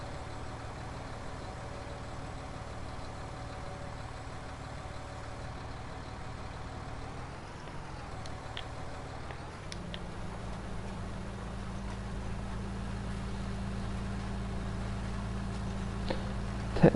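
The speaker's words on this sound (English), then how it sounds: "Technically I think this tractor's slightly underpowered to pull this seeder, but it's done a good job." A tractor engine in Farming Simulator 19 drones steadily while pulling a seeder, a low continuous hum with a faint ticking, and the pitch drops and settles into a deeper, heavier note partway through.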